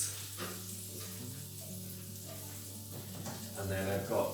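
Leeks tumbling into a pan and frying for rice and peas, a steady soft sizzle with low stirring movement that swells louder near the end.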